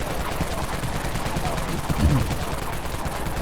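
Dawn Minigun firing in the zombie shooter game Dead Frontier: a steady, dense stream of rapid gunfire with no pause, swelling briefly near the end.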